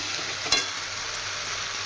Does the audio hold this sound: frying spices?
yes